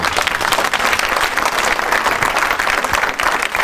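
A church congregation claps together in sustained, even applause, a dense wash of many hands filling the room from start to finish with no pauses.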